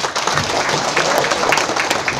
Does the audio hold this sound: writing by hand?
no